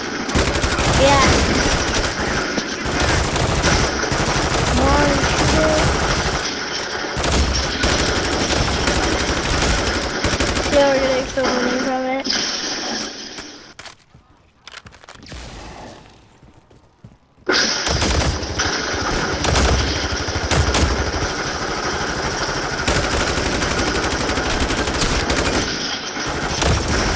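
Sustained automatic gunfire from a Call of Duty match rattles almost continuously at close range, dropping out briefly midway before resuming, with occasional talk.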